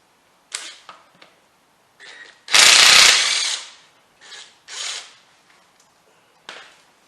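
A power tool takes a bolt out of a 1977 MGB: scattered short mechanical clicks and whirs around one loud, half-second burst of the tool running up close.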